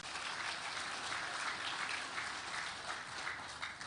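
An audience applauds at a ceremony opening cooperatives in Indonesia, with dense, steady clapping that continues for several seconds at moderate volume and no clear speech.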